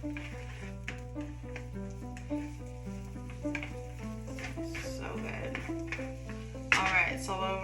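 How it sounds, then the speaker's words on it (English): Garlic and onion stirred as they fry in a pot for sopa de fideo, with a low sizzle, occasional scraping taps of a utensil, and a louder burst of frying near the end, all under tonal background music. "Go ahead and continue to stir this garlic and onion."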